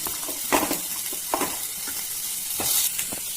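Tomatoes and cabbage hit a hot pan for pav bhaji-style Maggi noodles, giving a steady soft sizzle with a few brief stirring scrapes, close and alone without speech.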